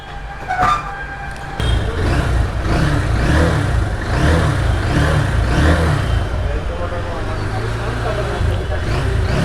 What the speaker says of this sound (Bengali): এটার ইঞ্জিন সাউন্ড একেবারেই স্মুথ